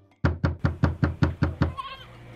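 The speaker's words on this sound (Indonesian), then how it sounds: "Tiba-tiba, seseorang mengetuk pintu" Eight loud, evenly spaced knocks on a door ring out close by, followed by a short, faint voice-like sound.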